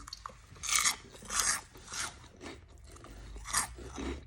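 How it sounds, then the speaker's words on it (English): Crunching of crisp burger-flavoured Australian snack rings being bitten and chewed close to the mic, several sharp crunchy bites at uneven intervals with softer chewing between, no talking. "I'm not sure if you can hear that crunch."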